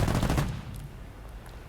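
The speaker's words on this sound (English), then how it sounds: "the regular nose guns, they fire slow enough that you can take out multiple targets" Nose guns of an IL-28 bomber firing in War Thunder, a loud rapid burst of gunfire that cuts off after about half a second and leaves a fading tail, followed by a short final crack.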